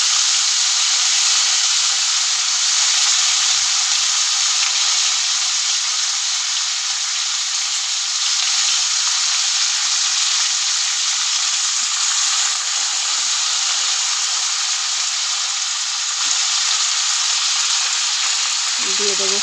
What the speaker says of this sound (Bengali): আমি কড়াতে জিরে ফোড়ন দিয়ে দিয়েছি, দিয়ে দিলাম বিনস আর আলু